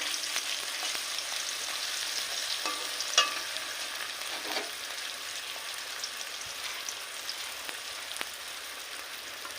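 Tomato frying in oil in a pan while a jackfruit biryani is cooked, a steady close sizzle broken by soft scraping and clinks as the tomato is stirred, with no talk.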